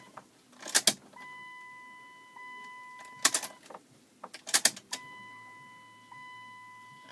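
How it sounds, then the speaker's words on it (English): Ignition key on a 1998 Chrysler Town & Country turned on several times to prime the fuel pump: keys jangle in clusters, each followed by a steady electric whine of the pump running for a second or two, repeated three times. "We're going to turn the key to the on position a few times."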